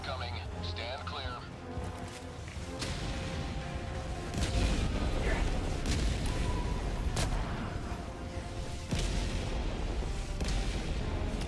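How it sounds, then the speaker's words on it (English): Orbital barrage strikes in the video game Helldivers 2: repeated heavy booms and blasts land at intervals over a steady rumble of battle noise, with game voices and sounds mixed in. "Orbital barrage incoming."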